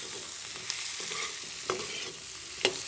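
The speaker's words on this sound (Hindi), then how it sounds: "आलू डाल देंगे और फ्लेम को यहाँ पर मीडियम टू हाई ही रखेंगे और इस तरह से चला लेते हैं" Potatoes and capsicum stirred in a pan over medium-high flame, a steady sizzle of frying broken by a few sharp spoon scrapes against the pan, with no talking.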